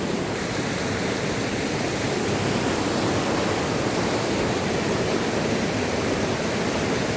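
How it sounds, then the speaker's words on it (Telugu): Rushing floodwater after Cyclone Montha sweeps over ruined village farmland, a constant, heavy roar filling the whole stretch without speech. "తుఫాన్ కారణంగా ఎంత వాటర్ వెళ్తుందో చూడండి ఒకసారి."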